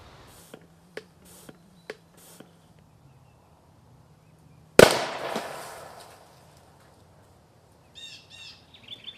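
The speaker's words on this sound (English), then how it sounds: "This right here is a 4-inch bore vacuum cannon made to fire 3-inch PVC end caps." A homemade 4-inch bore PVC vacuum cannon fires a 3-inch PVC end cap with a single loud, sharp bang that decays over about a second, preceded by faint ticks and followed by distant bird chirps.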